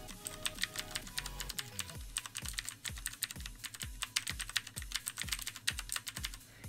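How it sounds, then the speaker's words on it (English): Rapid typing on a Razer RGB keyboard, dense close key clacks in quick uneven bursts over a faint low hum, with no voices. "Do people like the sound of the keyboard?"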